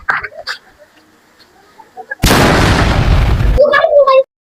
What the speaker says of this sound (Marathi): फटाका लागला मित्रांनो